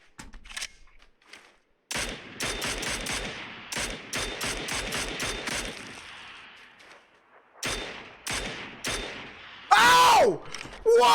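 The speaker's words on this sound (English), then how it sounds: "I've never shot a parachuter before." Gunfire from the battle royale video game PUBG: bursts of rapid shots in rhythmic volleys, loud and close, pausing and resuming, with a sharp whooshing sweep near the end.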